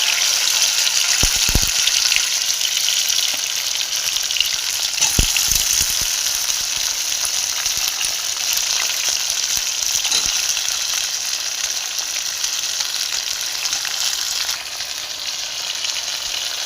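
Okra frying in oil in a pan with cumin seeds, a steady loud bright sizzle throughout, with a few low thumps near the start and no speech.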